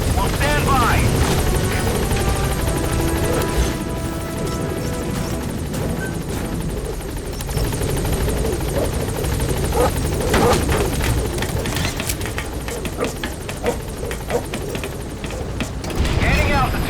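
The Pequod helicopter from the Metal Gear Solid V video game arriving at a landing zone, a loud, continuous rotor thump and engine roar close by, with game voices and scattered sharp effects over it.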